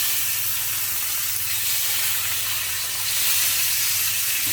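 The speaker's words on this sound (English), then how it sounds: "So we'll let that proper sear in first." Ribeye steak sears in a hot oiled pan, giving a steady, loud, even sizzle with a low hum beneath it and no talking.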